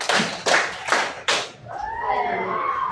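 A primary school class claps together in a counted pattern, four loud, evenly spaced group claps, followed by children's voices and a teacher talking.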